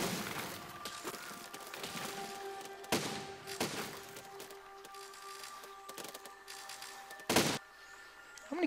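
Cannon shots in the physics building game Besiege fire as a handful of sharp, bursting booms at irregular intervals, one loud blast near the end, over a busy background of game noise, with no talk.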